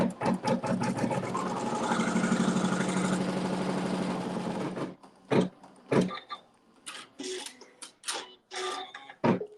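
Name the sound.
sewing machine stitching a fabric seam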